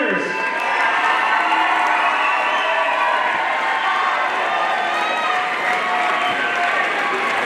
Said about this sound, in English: give a warm round of applause for these 2 fighters.